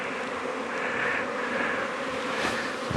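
Honey bees hum in a dense, steady drone around an open hive during a colony split, a close, continuous buzzing that swells slightly as individual bees pass near.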